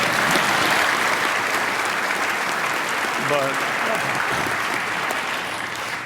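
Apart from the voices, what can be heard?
audience applause at Hall of Fame speech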